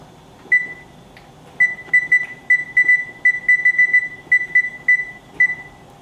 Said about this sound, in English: I have to set the timer on 15 minutes.